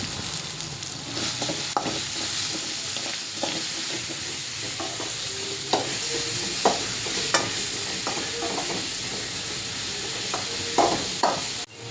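Food fries and sizzles in a home kitchen pan until light brown while a spoon stirs it, with a steady crackle punctuated by sharp scraping and clinking strokes and no talk.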